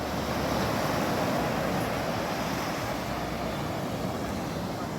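Night surf at Cox's Bazar beach rolls in as a steady, full roar of breaking waves with wind buffeting the microphone. No voices are heard.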